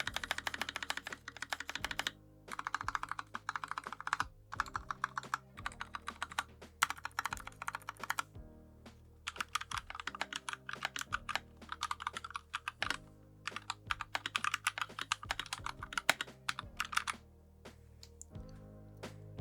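Fast, continuous typing on several custom mechanical keyboards, including a Royal Kludge RK61, with crisp clustered keystrokes and occasional brief pauses between bursts, close and clear with no talking.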